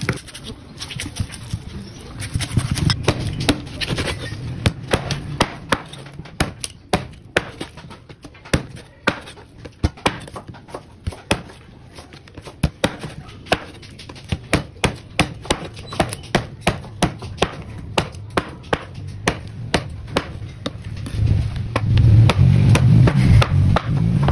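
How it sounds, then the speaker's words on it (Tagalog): Rooster meat, a gamecock being readied for a garlic dish, is hacked apart with a cleaver on a board, giving a long run of sharp, fairly loud chops at an uneven, brisk rhythm with low thuds beneath, and no voices. "i-chop muna natin yan bago natin siya pakuluin at sangkapan"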